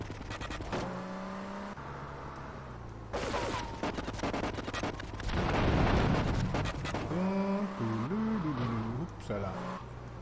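Gunfire in the video game GTA III hits cars in repeated rapid bursts of sharp cracks, mixed with engine drone and a roaring blast in the middle, all loud and continuous.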